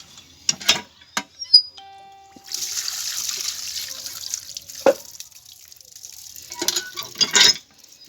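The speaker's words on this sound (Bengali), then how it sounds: "আমি ঝুড়িতে করে একটু ধুয়ে নেব" Pieces of raw jackfruit are rinsed with water in a basket: scattered drips and splashes, then a longer stretch of sloshing, running water, and more close splashes near the end.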